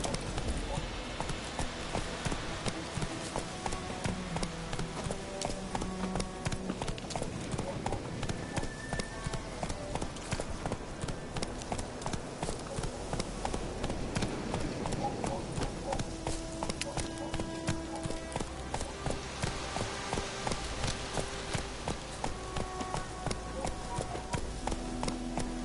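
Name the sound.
horse Roach galloping in video game The Witcher 3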